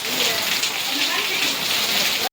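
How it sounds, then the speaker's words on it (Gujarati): Rain pours down steadily during the final day of a fair in Rajula, a dense, close, even hiss of drops on surfaces lasting throughout with no break. "વરસાદ આવ્યો જોવો"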